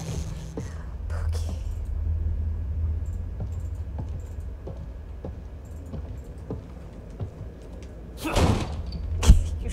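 A door slams twice in the survival horror game The Evil Within 2, with two loud, sharp thuds near the end over a low, rumbling ambience and faint scattered ticks.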